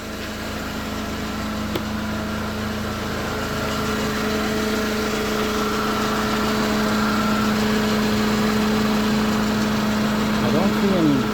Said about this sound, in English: The car's still running.